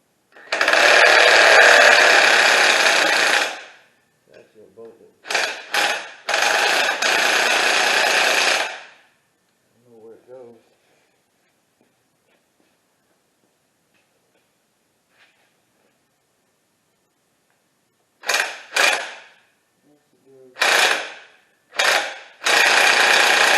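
An air impact tool or ratchet works bolts loose on a scrapped Dykon express scooter, with loud buzzing bursts of several seconds, short pulses and long quiet gaps between them.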